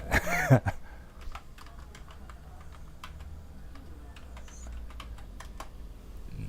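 A comment is typed on a computer keyboard in a run of crisp, irregular clicks close by, following a brief burst of speech at the start.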